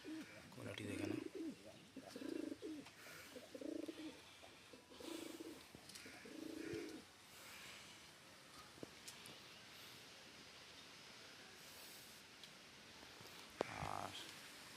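A pair of European Lahori pigeons cooing in a series of soft, low, repeated coos over the first half, with faint chirps and a quieter stretch afterward; someone talks nearby.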